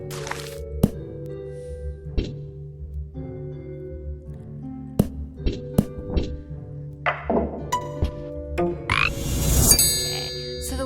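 Croaking frog calls from a video game, a series of short bursts and thunks spread across a quiet, tonal background, ending in a loud rising swell.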